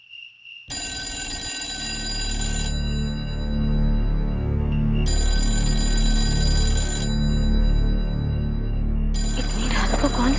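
A telephone rings late at night in a home, a sustained loud ringing with bright harmonic tones that pulses on and off in repeated bursts over a steady low hum.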